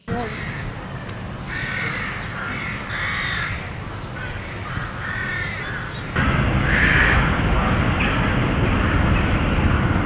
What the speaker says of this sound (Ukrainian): лише вороняче каркання нагадує про моторошне перевтілення вночі